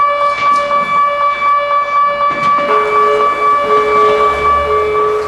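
A loud Barcelona fire engine siren wails continuously, steady tones holding with a second tone joining midway, close and dominant.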